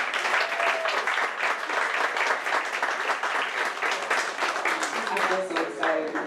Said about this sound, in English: Can you give a special person a round of applause?